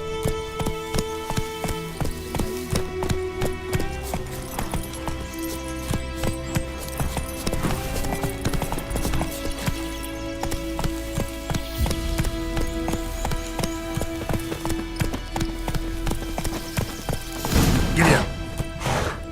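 Roach, the horse in The Witcher 3: Wild Hunt, gallops in steady rapid clip-clop hoofbeats under game music and ambience, close and fairly loud throughout, with a brief heavier crash near the end.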